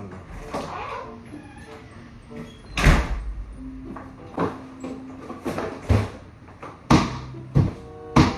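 A door is slammed repeatedly inside a house, giving sharp, loud bangs at irregular intervals, with quiet voices talking between them.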